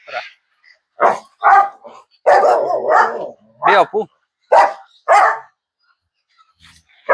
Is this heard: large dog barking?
yes